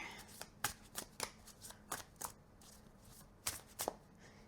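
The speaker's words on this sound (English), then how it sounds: "I swear I'm shuffling these." A deck of tarot cards being shuffled by hand, a run of sharp riffling bursts in an uneven rhythm with a brief pause before two final flurries, close and fairly quiet.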